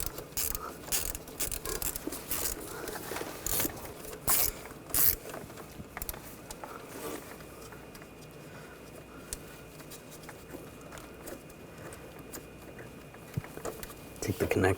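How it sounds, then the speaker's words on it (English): A ratchet with a 13mm socket loosens the power wire nut on the starter of a 2004-2012 Chevrolet Colorado 3.7L, giving bursts of quick clicking and metallic scraping, then quieter stretches, with someone talking throughout. "we're going to take the nut off for the power wire. Use a 13mm socket."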